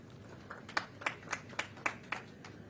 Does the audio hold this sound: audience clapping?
yes